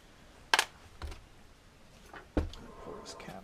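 Allen bolts come out of the tank mount of a Shindaiwa 300s chainsaw as a few sharp metallic clicks and ticks, close and isolated against a quiet background.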